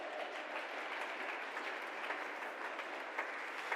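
Steady applause from a crowd fills the whole stretch, dense and even, with no voices over it.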